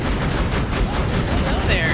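Rapid gunfire in the video game Borderlands 2 fills the moment as a dense, continuous burst of booming shots with a rumbling low end. Voices are mixed in.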